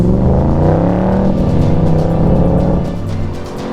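Loud, close engine roar from a 2024 Shelby Cobra CSX10000 accelerating hard, a deep rumble that climbs steadily in pitch and eases off slightly near the end.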